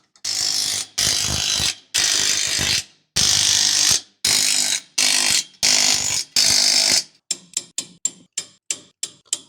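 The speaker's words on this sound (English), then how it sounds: "And tightening U-bolts." A ratchet tightens U-bolts on trailer leaf springs: eight long, loud bursts of rapid clicking with short pauses between them, then a run of quick, short ratchet strokes at close range.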